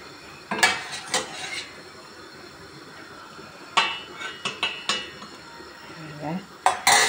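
Meat being served onto a plate, with sharp clinks of cutlery against dishes and a tray in scattered bursts, close by and with no talking.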